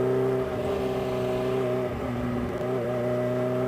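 A Kawasaki H2 or turbocharged Suzuki GSX-R 750 motorcycle pulls hard under throttle. The engine drones steadily and loudly close by, with the pitch wavering slightly as it winds up.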